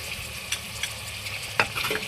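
Salted beetroot and beans fry in oil in a pan, a quiet, soft sizzle broken by a few sharp clinks and scrapes of stirring near the end.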